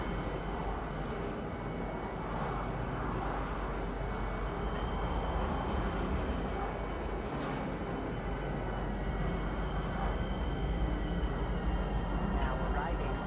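A metro train in Star Citizen rumbles steadily into a station, a continuous low roar with faint tones over it, while an announcement voice speaks.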